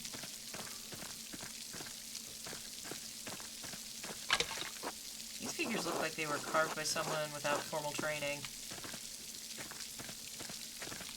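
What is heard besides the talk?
rain falling in the video game Pentiment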